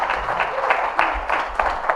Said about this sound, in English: So I just want to give you guys a hand of applause.